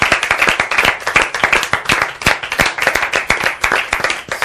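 A studio audience at a French television broadcast claps steadily, a dense continuous round of applause with sharp individual hand claps, loud and close throughout.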